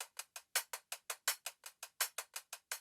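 Layered hi-hat samples tick in a quick even pattern, about sixteen short crisp hits where louder accented strikes alternate with softer notes, dry and close with nothing else heard.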